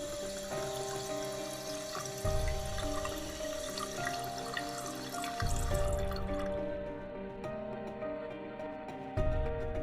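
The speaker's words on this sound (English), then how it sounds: "Turn the water on." Tap water running in the point-and-click game Yesterday, a steady stream with faint drips over soft background music, continuous and close for the full length.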